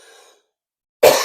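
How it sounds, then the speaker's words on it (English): A single sharp cough breaks out close and loud at the end, after a faint breathy sound and a short silence. "Why do I have a cough?"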